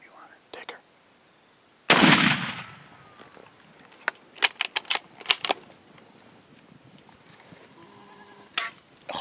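A single loud rifle gunshot fired while hunting an aoudad, a sharp broadband blast near the start followed by a decaying echo, with scattered clicks and soft handling noises afterward.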